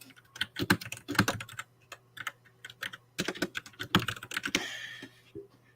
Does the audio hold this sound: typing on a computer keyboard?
yes